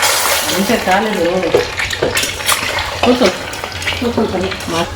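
Eggs fry in hot oil in a home kitchen, a bubbling sizzle with sharp crackles and spatters, while a person talks over it.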